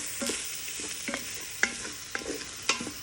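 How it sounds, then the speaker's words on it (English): Ground beef browning in a pot with cumin and chili powder seasoning, a steady soft sizzle broken by several sharp spoon scrapes and stirring knocks, close and alone without talk. "And so we're still browning this, and this goes for 5 minutes."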